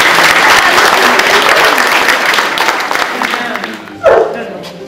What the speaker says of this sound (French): dont je crois qu'on peut les applaudir.